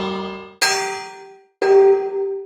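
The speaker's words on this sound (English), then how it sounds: "just use the village bell sound that featured prominently in my Jachaeltale theme remake" The Minecraft village bell is struck three times, each a bright metallic clang that rings out and decays before the next strike, loud and close with nothing else sounding.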